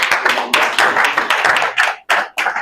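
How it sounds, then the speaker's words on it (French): A church congregation at a Sunday service claps together in a loud, fast, close-up burst of applause lasting a few seconds, with brief dips where the clapping momentarily thins out. "Est-ce qu'on peut acclamer encore?"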